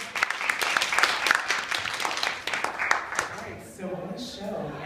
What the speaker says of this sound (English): let's give a round of applause to public school